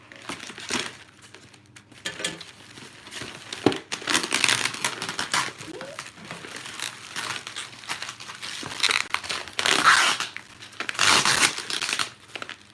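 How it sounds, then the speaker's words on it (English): Loud, close crinkling and crushing of plastic wrapping in repeated bursts, with rustling tears and crackles as packaging is pulled open; no talking. "Oh, a very loud unboxing this."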